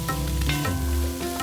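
Okra cooked under a lid in a pan is uncovered and stirred, giving a short burst of close, dense sizzling with soft scraping spoon strokes and no talk.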